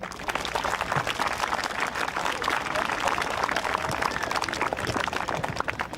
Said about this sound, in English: So a round of applause for the guys behind me.